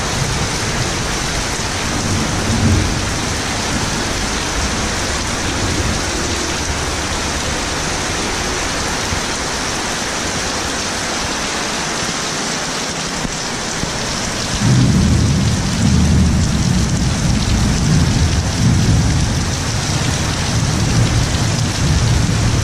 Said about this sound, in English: the rainy season has definitely arrived.